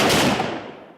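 Single loud gunshot during commando fire-and-move training at a special forces school, a sharp close crack followed by a rolling echo that fades out within a second.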